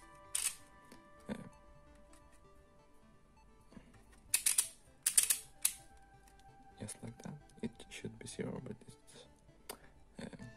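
A 3D printed combination lock dial turns in short bursts of small plastic clicks and ratcheting ticks, clustered in uneven groups with quiet gaps between them, close and fairly faint.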